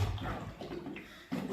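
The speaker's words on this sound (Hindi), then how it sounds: "मैं फिर दोबारा से पानी में उंडेलता हूँ।" Water is poured into a handi (clay pot) in which straws were burned. It makes a brief, soft splashing pour, fairly faint and heard alone.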